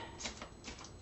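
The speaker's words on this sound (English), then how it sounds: "I'm going to shuffle you and deal an Angel Oracle card" A deck of Angel Oracle cards is shuffled in a faint, soft riffling patter of quick papery flicks, quiet and close, with no talk.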